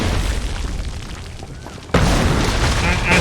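Heavy cannon fire booms in Assassin's Creed III during an assault on ships near Charlestown, a dense rumbling bed of explosions that jumps abruptly louder partway through.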